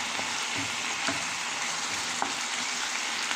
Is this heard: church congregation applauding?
no